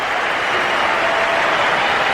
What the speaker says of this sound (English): That particular boundary will have brought generous applause from the Australian dressing room